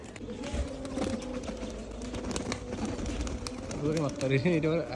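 A pair of green pigeons for sale coo in soft, low bursts against a steady rumbling background, and voices are heard close by.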